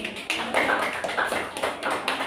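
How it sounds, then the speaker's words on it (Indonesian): Classroom applause from students during a group presentation lesson, a dense patter of many hands clapping steadily throughout at moderate level, with no voices over it. "Oke, tepuk tangan dulu."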